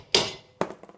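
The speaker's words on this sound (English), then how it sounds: "you just tap the side of the socket and the vibrations will loosen that nut and it'll pop right out" Metal socket tapped to loosen a strut nut, two sharp close knocks followed by a few fainter light taps.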